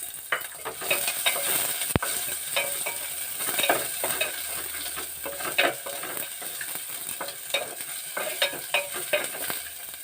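Onions frying in hot oil in a pan while being stirred, a steady close sizzle with repeated scraping and clinking strokes of the spoon, continuous and without talk.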